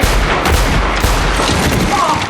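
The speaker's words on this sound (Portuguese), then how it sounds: "Xoxana enche ele de tiro" Loud, rapid gunfire in a climactic scene from the film Inglourious Basterds, a dense burst of repeated shots packed tightly together over a couple of seconds.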